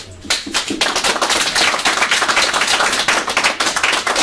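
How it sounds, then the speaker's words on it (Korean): An audience at a Korean community New Year ceremony in Los Angeles applauds to welcome an award recipient, with loud, close, dense clapping that starts abruptly and keeps going. "큰 박수로 맞이해 주시기 바랍니다"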